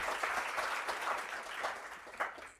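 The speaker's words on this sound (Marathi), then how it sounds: "टाळ्या झाल्या पाहिजे." An audience at an agriculture exam achievement felicitation breaks into applause, a fairly faint, sustained patter of clapping with a brief louder burst near the end.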